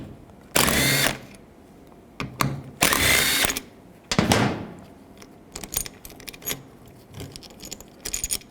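Power tool with a 10mm socket backing out the wiper transmission bolts on a 2010-2017 Chevrolet Equinox, heard as several short, loud whirring bursts separated by pauses, with clicks and clatter between them.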